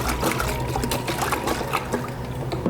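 About a litre of water sloshing steadily as it is shaken inside the dust container of a Thomas Parkett Master XT vacuum cleaner, close and continuous throughout.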